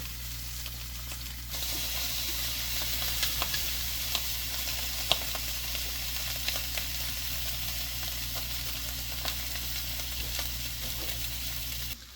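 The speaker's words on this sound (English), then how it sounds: "This pan, like I said, is super hot, so I am going to use tongs, make sure they work, so I can flip them over and get the other side seared." A rack of meat sears in a very hot pan, a steady loud sizzle over a low background hum, with scattered pops and clicks of tongs turning the pieces.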